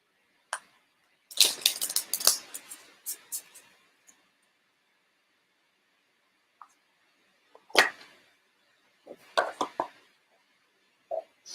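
Tarot cards being shuffled and tapped on a table at a reading: short crisp riffling and snapping bursts in clusters, fairly close, separated by pauses of near silence.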